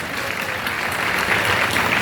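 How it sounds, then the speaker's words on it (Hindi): A youth debate audience gives a dense, even burst of applause to welcome a participant, a continuous wash of clapping from a crowd with no talk. "जोरदार तालियों से स्वागत करिए।"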